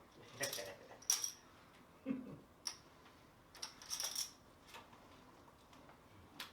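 Poker chips clicking and clattering in a few short bursts as they are handled, faint and close, with quiet pauses between the clinks.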